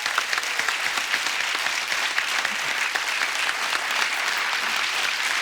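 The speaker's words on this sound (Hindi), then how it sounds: "एक बार जोरदार तालियां हंगामा 2 की सुपर टैलेंटेड कास्ट के लिए" A television studio audience gives loud, sustained applause for the cast of Hungama 2 on The Kapil Sharma Show. Dense, even clapping fills the whole stretch with no pause.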